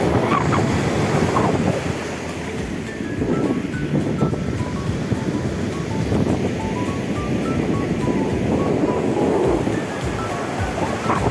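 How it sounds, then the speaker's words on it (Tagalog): Heavy open-sea surf rolls and crashes continuously nearby at a beach in La Union, with wind buffeting the microphone throughout. "In fairness, malakas ang alon kasi nga it's open sea."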